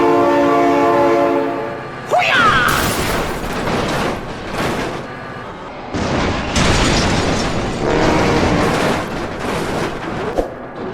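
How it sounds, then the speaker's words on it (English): In the BeamNG driving game, a train horn blares loudly before a train roars past in a series of heavy crashing, booming bursts, all close and loud. "Oh my god, train!"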